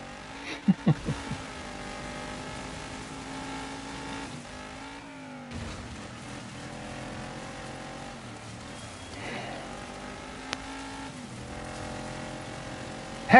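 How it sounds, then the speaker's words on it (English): An Xbox game buggy's engine drones steadily with harmonic tones, shifting pitch as it accelerates and eases off, with a few sharp knocks near the start and a brief dropout midway; no talking. "Here, I'm driving my Xbox buggy."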